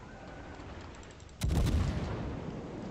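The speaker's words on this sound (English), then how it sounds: "Here come the shots." Incoming naval shells in World of Warships land as a sudden heavy boom about halfway through, followed by a sustained rumbling roar after a quieter stretch of ambient ship noise.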